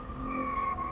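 A BMW G80 M3 with a manual gearbox breaks traction under too much throttle, giving a sustained tire squeal over a steady engine drone, loud and close.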